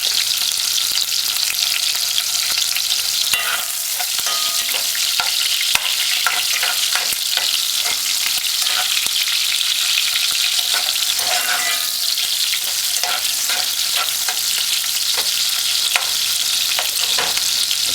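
Ingredients for Jamaican salt mackerel run down fry in a pot on a stove set high, giving a loud, dense, continuous hiss with scattered crackles and pops close up, no voices.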